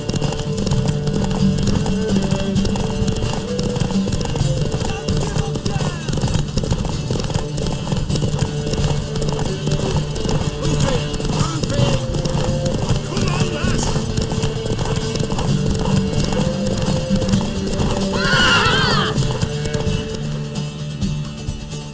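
Rhythmic hoofbeats of a galloping horse in The Witcher 3: Wild Hunt continue throughout, with a horse whinnying near the end over a musical background and some speech.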